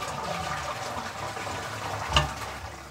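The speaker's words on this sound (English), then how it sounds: "So that's the way you flush the toilet." A push-button toilet flushes with a steady rush of water throughout, a short clunk near the end, no voices.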